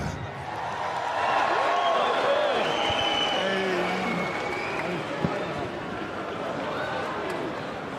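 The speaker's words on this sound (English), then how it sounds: "please make some noise for Salt Papi" A boxing-event crowd cheers and claps as fighter Salt Papi is introduced at a Showstar Boxing UK vs USA card: a swelling roar with walk-out music underneath and a single sharp bang midway.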